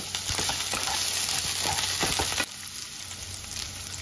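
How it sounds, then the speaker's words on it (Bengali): Whole garlic, a large onion and five or six red chillies fry in a pan, giving a steady close sizzle with scattered crackles and a few stirring clicks, then a slightly quieter hiss, with no voices. "এবার এগুলোকে হালকা করে ভেজে নেব।"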